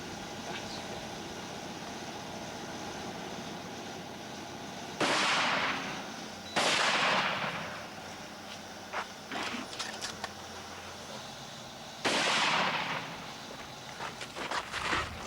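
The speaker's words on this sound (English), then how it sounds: "we'll let you guys have a few shots at a target" Rifle shots fired at a target at a camp ring out as a few separate loud cracks spaced seconds apart, each with a brief echoing tail, with quieter clatter and movement in between.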